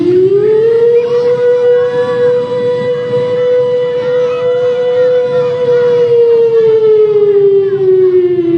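Civil defense warning siren in a storytelling setting about an air-raid alarm in Gaza, a loud sustained mechanical wail holding one steady pitch for several seconds before sliding slightly lower at the end, with no voices.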